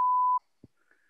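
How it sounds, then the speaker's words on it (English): A single clear electronic beep sounds briefly, followed by a soft thump and a faint fading tone. "Two beeps."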